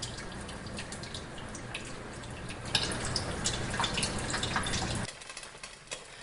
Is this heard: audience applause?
no